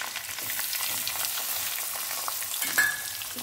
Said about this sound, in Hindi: जब गर्म हो जाएगा हरी मिर्च डालेंगे, और उसी के साथ ये प्याज